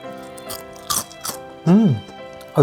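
A few sharp, crisp crunches of fried tempura close up, with short vocal sounds in between.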